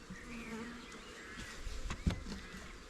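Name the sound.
honey bees buzzing in a hive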